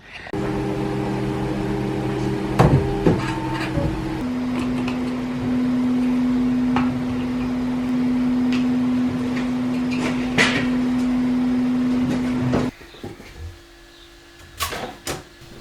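A 3D printer runs with layered motor whines and a sustained tonal hum that shifts pitch, interrupted by clicks and knocks, then stops abruptly near the end, leaving quieter room noise and a few handling sounds.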